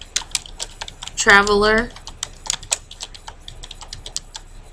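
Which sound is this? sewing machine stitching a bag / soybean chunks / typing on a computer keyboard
typing on a computer keyboard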